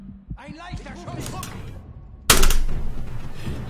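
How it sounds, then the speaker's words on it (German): A sharp, loud gunshot bursts suddenly in the middle of Assassin's Creed Origins gameplay, with a rattling tail after it, following tonal game sounds and speech. "Ein leichter Schuss."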